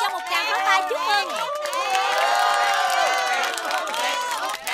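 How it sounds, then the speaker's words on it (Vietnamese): A crowd at a singing performance claps and cheers loudly and continuously, with excited shouts and voices layered over the applause throughout. "Xin cho một tràng pháo tay chúc mừng."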